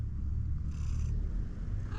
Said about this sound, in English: What's up, kitty cat?